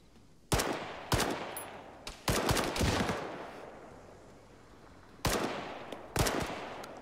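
Machine gun fire in the military shooter Arma 3: about six sharp, loud bursts of rapid shots spaced irregularly across the stretch, each cracking out and decaying into a brief echo, with no voices.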